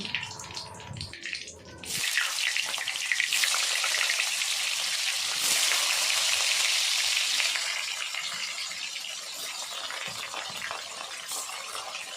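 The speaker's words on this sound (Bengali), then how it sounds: "সব কাঁটালের পিসগুলো মানে এঁচড়ের পিসগুলো ভেজে ফেরত আসছি" Pieces of young jackfruit frying in hot oil make a steady, crackling sizzle, close and continuous after a short rustle at the start, with no talking.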